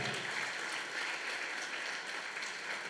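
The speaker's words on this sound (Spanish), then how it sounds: "Denle ese aplauso al Señor." Steady applause from a church congregation at a family worship gathering, a continuous wash of many hands clapping at moderate loudness throughout, without speech over it.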